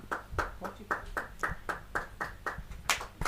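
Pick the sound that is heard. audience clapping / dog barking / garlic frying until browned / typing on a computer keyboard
audience clapping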